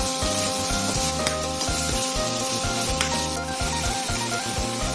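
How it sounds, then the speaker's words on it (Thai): Pounded red chili and shallots stir-frying in oil in a wok, a continuous close sizzle under rhythmic scraping spatula strokes repeating roughly twice a second. "พริกแดงหอมแดงที่โขกไว้ผัดให้มีกลิ่นหอมก่อนนะครับ"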